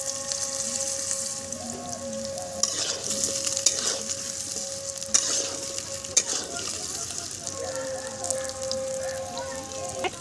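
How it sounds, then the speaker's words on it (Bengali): Potato pieces frying in hot mustard oil: a busy close sizzle with bubbling, spatter and scraping stirs, plus a faint steady tone humming underneath. "তেলটা গরম হয়ে গেছে, এখন আমি এর মধ্যে দিয়ে দিচ্ছি আগে থেকে পিস করে রাখা আলু।"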